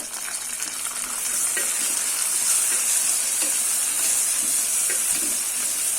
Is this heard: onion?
yes